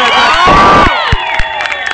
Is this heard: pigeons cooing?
no